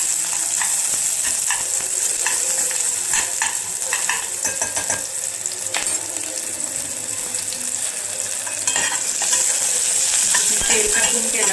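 Onion browning in ghee in a pan, with a steady bright sizzle running throughout and occasional scraping stir clicks, close and fairly loud with no talk.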